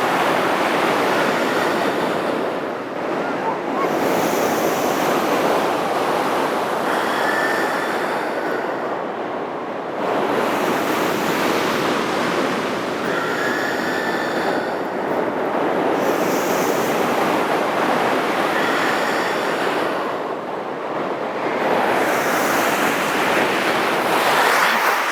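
Ocean waves roll onto the shore in steady loud washes, each surge swelling and easing back roughly every five to six seconds, with wind buffeting the microphone throughout.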